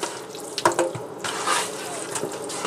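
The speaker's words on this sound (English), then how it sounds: "I'm gonna have to go wash my hands" Tap water runs steadily into a kitchen sink during a hand wash while cooking fried chicken wings, splashing in a continuous close stream with a few brief spatters and no talk.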